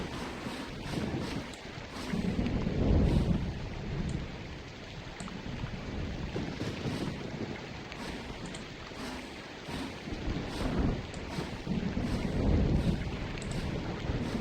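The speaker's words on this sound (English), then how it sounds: "Oh, that was one hell of a lightning strike." Deep rolling thunder from a lightning strike in a zombie survival video game, several low rumbling swells over a steady rain-like wash, no talking.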